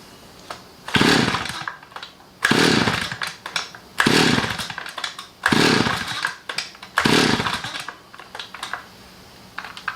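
A Stihl 010AV chainsaw, an old hard-starting saw, being pull-started: five loud rasping recoil pulls at a steady rhythm, each a brief burst of mechanical clatter, with no engine catching between them, close up.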